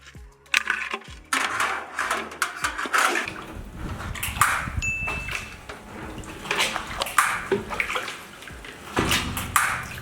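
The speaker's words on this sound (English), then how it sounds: "So I'm going to be pulling water from the tank using this jug right here." A jug dipped into an outdoor water tank: water sloshing and splashing mixed with hollow plastic knocks and scrapes, continuous and close.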